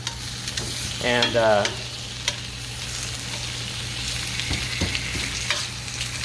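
Thin-sliced pork frying in a pan, a steady crackling sizzle with a few scraping stir strokes, close and fairly loud, with a brief voice at the start.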